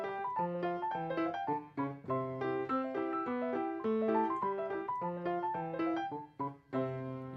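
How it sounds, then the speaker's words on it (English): Solo piano plays a European-style march in even, straight rhythm, clear melodic notes over steady bass chords, close and moderately loud with no voices. "So a European piano piece might sound like."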